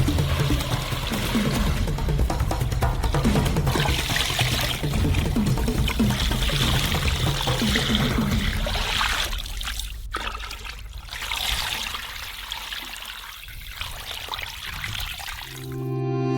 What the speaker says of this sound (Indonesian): Tuangkan air ke dalam atasnya.